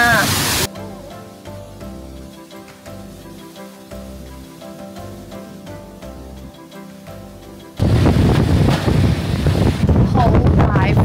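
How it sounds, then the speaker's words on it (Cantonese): Strong wind buffets the microphone on the deck of a whale- and penguin-watching boat. Loud roaring gusts open the clip, then a calmer stretch with music follows before the blast returns, sustained and heavy. "好大風啊"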